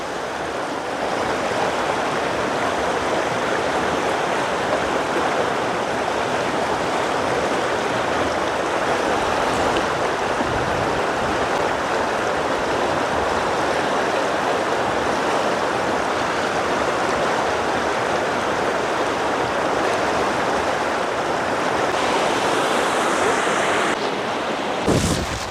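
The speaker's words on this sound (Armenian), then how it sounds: "ձայնը լսեմ գետի" Arpa river flowing past its bank near a bridge, a steady, full rushing of water heard up close without pause, with some wind noise and no talking.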